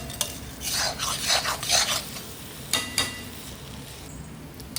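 Chicken sukka being stir-fried in a pan for a wedding-style dish, a soft sizzle under bursts of scraping spatula strokes against the metal, moderately close with short pauses between stirs.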